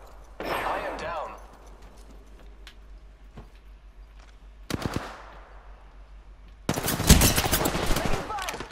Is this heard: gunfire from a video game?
yes